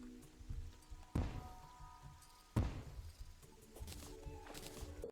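Bombs explode in Terraria, two sharp, punchy blasts a little over a second apart, each decaying quickly, followed by softer clattering debris sounds at low volume.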